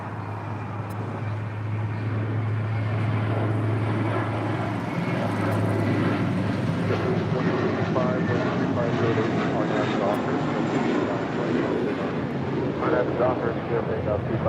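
An Atlas Air cargo jet on short final into LAX, arriving from Anchorage, roars steadily and loudly with a low engine drone throughout, while people talk over it.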